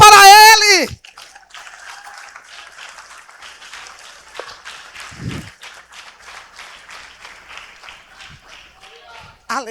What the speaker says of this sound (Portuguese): A salva de palmas para ele.